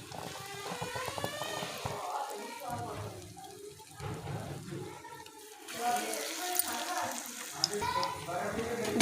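Potato mince kebabs coated in cornflour and breadcrumbs fry on low heat, giving a steady soft sizzle under speech that grows brighter and more crackly toward the end.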